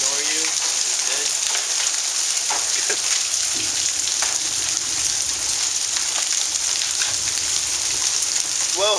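Marble-size hail pelts down during a thunderstorm in Dallas, Texas, a loud, dense, unbroken patter of hits close by, with a brief voice at the edges.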